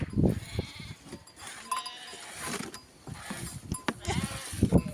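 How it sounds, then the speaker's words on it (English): Goats bleating among sheep at milking time on a traditional sheep farm, with a few scattered calls close by, creaks of equipment and shuffling animals, and no talk. "Ioan and Marinella is milking the goats."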